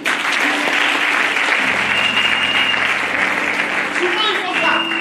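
Congregation applauding at a Sunday church service, sustained loud clapping throughout with crowd noise and a voice or tones rising underneath.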